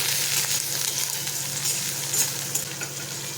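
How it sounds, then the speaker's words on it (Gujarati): Chopped onion hits hot oil with crackled cumin seeds and is stirred, giving a loud, steady sizzle with scraping stir sounds close by. "હવે આપણે એમાં ડુંગળી નાખીશું"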